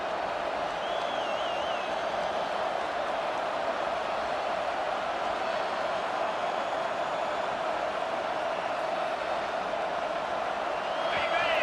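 A football stadium crowd at an Ohio State versus Texas game roars loudly and without a break, a dense wall of noise that holds level throughout and swells slightly near the end.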